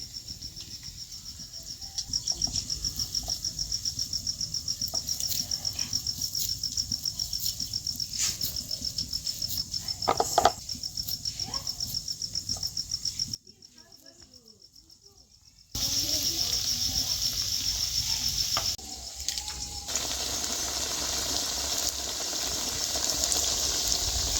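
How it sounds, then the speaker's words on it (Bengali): Prawn fritters (chingri bora) frying in hot oil give a steady, close sizzle with a fine crackle. The sizzle drops away for a few seconds in the middle, then returns just as strong. "এইরকম বড় আকার বানিয়ে তেলের মধ্যে ছেড়ে দেবো। তেলটাও গরম হয়ে গেছে।"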